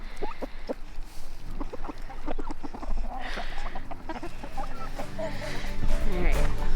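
A flock of backyard farm chickens clucks and squawks steadily and close by for several seconds, with some rustling and general activity in the coop area.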